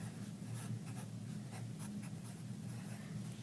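A pencil scratches across paper in quick, soft strokes as a teacher writes out a lesson heading, a close, quiet, steady scribbling with small rhythmic bursts and no talking.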